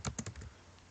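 Typing on a computer keyboard while a WordPress FAQ section is set up: a quick burst of several close, crisp keystrokes that then trails off into quiet.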